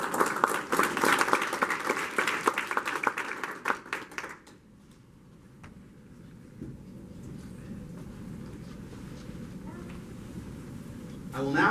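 A burst of audience applause at an AIT graduation ceremony fills the first few seconds, then dies away to a quiet room where a voice speaks.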